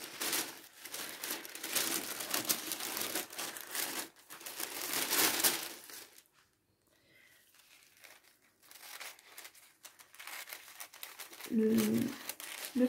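Dry paper crinkling and snipping in repeated bursts, close by, with a quiet pause midway and a short voice near the end.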